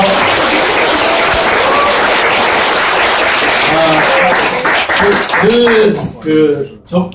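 A lecture audience breaks into loud, dense applause for a speaker, sustained for several seconds before thinning out as a voice begins talking over the last claps.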